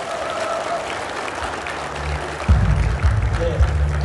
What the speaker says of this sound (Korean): 크게 박수를 한번 쳐주시기